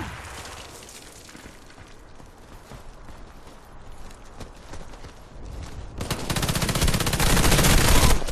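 Daewoo K1 rifle gunfire in a first-person shooter, steady automatic bursts throughout that grow louder and denser toward the end, with other battle noise and no speech.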